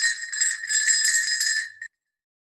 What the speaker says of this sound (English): And you mean Jingle Bells like this?